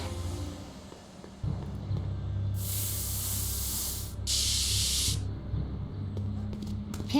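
Spray can hissing in the Back to the Future video game: two bursts of steady, bright hiss, each a second or more long, separated by a brief gap, over low game background noise.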